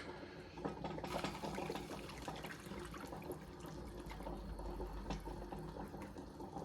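About 250 ml of water poured from a tap or vessel, a faint continuous stream with a steady rushing texture lasting several seconds, with no talk over it.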